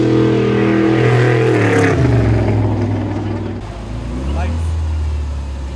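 A Baja 500 off-road race car engine runs loud and close, a steady roar whose pitch drops and shifts as the car moves, with people talking and shouting over it.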